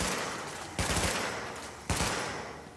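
Gunfire in The Division video game, a dense continuous automatic burst that swells with two sharp renewed volleys, loud and close with no talk over it.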